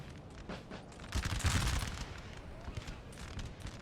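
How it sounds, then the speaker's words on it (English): Dense volleys of musket fire from infantry in Napoleon: Total War, a burst of overlapping shots peaking at close range with scattered cracks trailing after, no talk over it. "we have some Swedish infantry taking on some dragoons here, shooting them close range"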